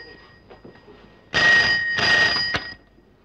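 An old-style telephone bell rings indoors in a film scene, two loud, close bursts of rapid ringing separated by a brief pause, then silence.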